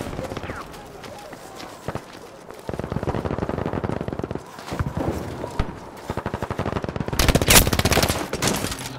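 MG42 machine gun fire in a video game crackles in rapid bursts, with dense rattling volleys and a loud final burst, layered under faint game noise and brief talk.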